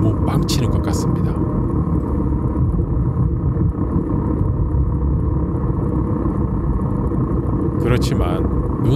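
Exhaust of a BMW R1250GS Adventure motorcycle riding through autumn countryside, a loud continuous low rumble close to the microphone with wind buffeting, steady throughout.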